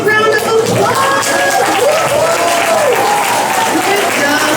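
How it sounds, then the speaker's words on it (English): Applause from a school assembly crowd, continuous loud clapping close by, with cheering and calling voices rising and falling over it throughout. "All right, guys, let's give them a big round of applause."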